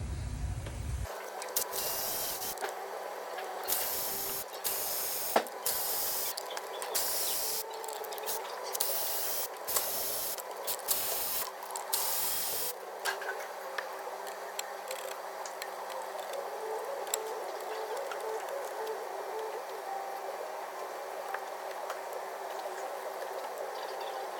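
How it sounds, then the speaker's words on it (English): A ratchet works loose the inlet manifold bolts on a Ford Transit 2.2 TDCi in a series of rapid clicking bursts over roughly the first half. After that, only a steady low hiss remains. "So we'll just get all them main manifold bolts out now."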